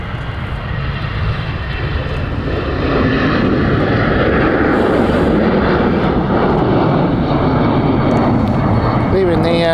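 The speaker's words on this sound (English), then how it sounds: "we have in the sunlight EasyJet taking off" An EasyJet jet airliner takes off at Stansted Airport, a loud continuous engine roar that swells and holds steady at close range, with a person talking over it.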